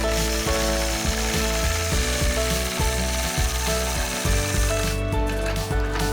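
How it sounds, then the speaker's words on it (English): A sewing machine stitches a quilt in a steady, loud mechanical run, its rapid needle clatter continuous and close with brief pauses and restarts. "I'll stop with my needle in the down position, readjust, and continue stitching"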